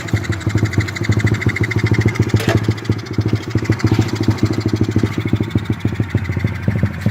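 Honda C70 Passport motorcycle engine idling low and steady, a close, even putter of rapid regular firing pulses throughout with no voices.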